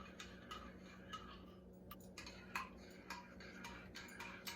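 A spoon clinks against a mug while stirring creamer and sugar into caramel cappuccino coffee, giving faint, irregular ticks and taps over a low background hum.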